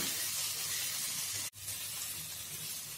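Drumstick pieces sizzle with spices in a pan, a close, steady frying hiss that drops out abruptly for an instant midway, then resumes at the same level.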